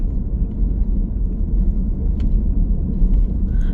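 A car travels through Las Vegas streets away from the Strip, a steady low road rumble and engine whir heard from inside the vehicle, continuous and fairly loud with no talking.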